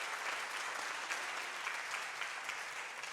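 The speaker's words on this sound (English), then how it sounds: "give him a round of applause for that" A comedy club audience applauds a couple married forty years, a dense, even wash of clapping heard from the room, steady for a few seconds with no voices over it.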